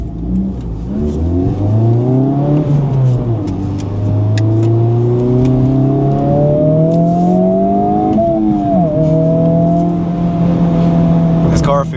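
A Honda FL5 Civic Type R on BBS wheels with new suspension drives close by, its engine note rising and falling through revs and gear changes at a loud, steady level.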